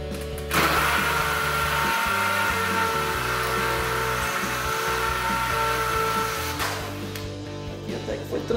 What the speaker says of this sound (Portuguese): A mesma broca 10mm, nós vamos furar esse bloco de concreto.